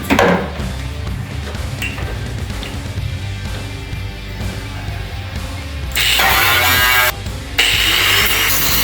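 A fresh cutoff wheel grinds into the body metal of a 1960 Simca Chatelaine, with a loud, harsh whirring rasp that rises sharply in its last few seconds, interrupted by a brief pause.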